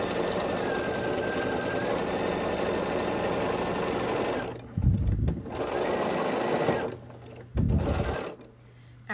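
A sewing machine stitches quilt pieces together for a Willa quilt top. It hums in long runs at close range, stopping briefly twice before resuming.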